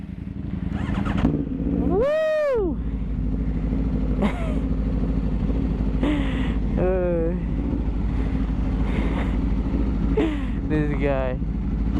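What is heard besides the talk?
Aprilia RSV4 motorcycle with SC Projects titanium exhaust starting up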